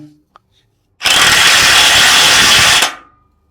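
DongCheng DPB22C electric impact wrench tightening an M24 bolt with a 36 mm socket, one loud sustained hammering burst of about two seconds, close and dominant, after a short quiet lead-in.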